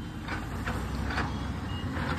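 Reversing beeps from a large vehicle such as a truck on a mountain road near Manali, Himachal: a series of soft, evenly spaced beeps over a loud continuous engine rumble and wind-like noise.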